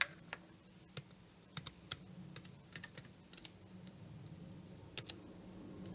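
Typing on a keyboard while a name is entered into a text box in the Notability app on an iPad: irregular light clicks and taps in a quiet room, with small bursts and gaps, fairly close and soft.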